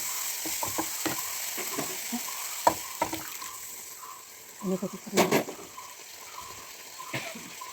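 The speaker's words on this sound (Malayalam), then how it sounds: "കറിവേപ്പില ആഡ് ചെയ്യുക." Curry leaves dropped into hot oil of a beef curry, a steady sizzle and frying crackle with stirring clatter and a couple of louder bursts of spitting near the end.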